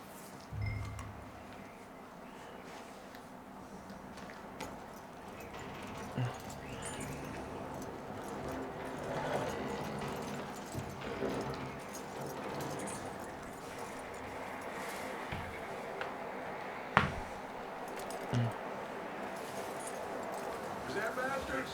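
Horse hooves clip-clop steadily in Red Dead Redemption 2, a soft, even rhythm in the background beneath ongoing conversation and ambient game sound, with a couple of brief metallic clinks.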